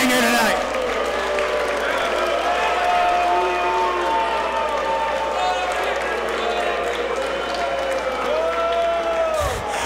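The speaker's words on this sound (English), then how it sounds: "Give yourself a round of applause for this great evening here tonight." Dense crowd noise from a Dragon Gate USA wrestling event fills the arena, with sustained cheering and clapping throughout and scattered shouts above it.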